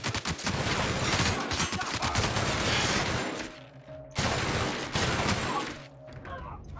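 Dense, continuous video game gunfire that rattles without pause for several seconds, drops out briefly, then bursts back at full loudness before tailing off, with no talking.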